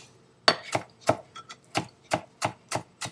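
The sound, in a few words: knife chopping cilantro for ceviche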